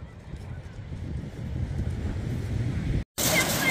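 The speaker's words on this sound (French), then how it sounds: "Écoutez-moi ce bruit de vagues," Sea waves washing onto a vast black sand beach in Corsica, a steady low rushing roar blown by wind, cut by a short gap before a brighter surge of surf returns.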